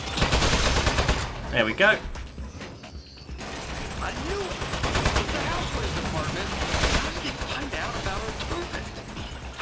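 Turret gunfire in the Aperture Desk Job video game: rapid bursts of shots early on, then a busy game soundscape with a voice talking over it.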